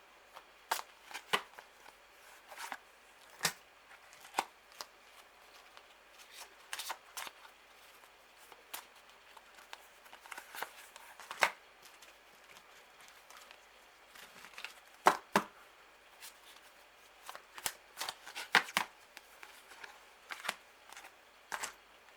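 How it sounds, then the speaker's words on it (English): Tarot cards riffle and snap in repeated quick bursts, a quiet close-up shuffle with short pauses between passes. "I'll give them a quick shuffle here again."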